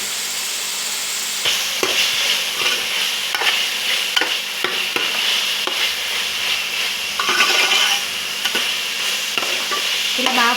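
Small chicken pieces fry and sizzle steadily in a pan for chicken fried rice, with repeated scraping and tapping of a utensil as they are stirred, loud and close with no talk.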